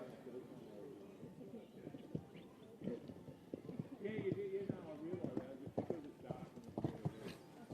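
Hoofbeats of a horse cantering in a junior 1.10m show jumping round, a steady rhythmic clip-clop at moderate distance, heard under continuous commentary from an announcer with some birdsong in the background.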